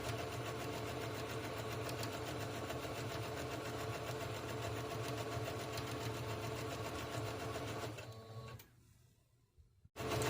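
A sewing machine stitches fabric for a scrunchie, a fast steady mechanical whir with rapid needle rattle that runs close and loud for about eight seconds, then slows and stops, with no speech.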